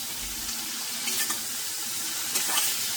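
Prawns being stirred in hot oil in a kadai, a steady broadband frying hiss with a few faint clinks of stirring, moderately loud and continuous with no talk.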